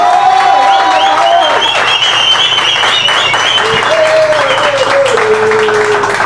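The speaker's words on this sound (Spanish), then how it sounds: "Un aplauso, por favor, para Paul." Enthusiastic audience applause for former Ecuadorian football player Paul Ambrosi, loud continuous clapping, with a voice talking and some cheering over it.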